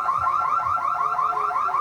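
A car alarm wails inside a French fry shop on Ludlow Street, New York City, a loud, rapidly cycling electronic siren that repeats steadily throughout, with no voices.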